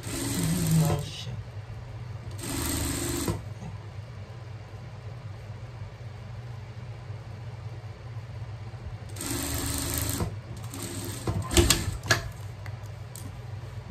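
A sewing machine stitches a hem on a pet top in short rattling bursts: one at the start, another a couple of seconds later, and a longer run near the end, with quiet handling between them.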